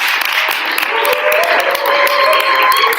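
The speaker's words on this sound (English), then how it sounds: "Give yourselves a round of applause." An audience at a spring school of ministry graduation claps continuously in a dense, close patter of many hands, with faint tonal sounds lingering underneath.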